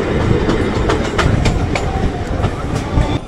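Sealdah to Canning local train running, a steady loud rumble of wheels on track with rhythmic clicking joints throughout, heard from inside the carriage.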